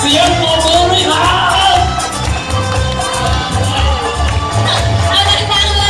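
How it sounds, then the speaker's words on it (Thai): A large crowd in the stands at a dolphin show cheers, shouts and claps in a loud, continuous roar, with children's voices and whistles rising above it. "please give me a round of applause"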